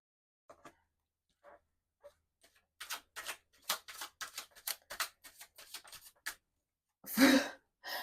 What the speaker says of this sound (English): my dog's snoring so loud right now